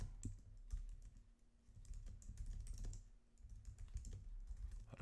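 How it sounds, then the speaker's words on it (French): Typing on a computer keyboard with a microphone sitting right in the middle of it: close, loud, irregular key clacks and thumps in steady bursts, with no talking. "là j'ai le micro qui est au milieu de mon clavier"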